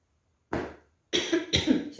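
A person coughs, pauses, then gives two harsh throat-clearing coughs in close succession, near and fairly loud with no talk over them.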